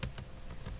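A few quick keystrokes on a computer keyboard, close and crisp, three or four separate clicks in under a second.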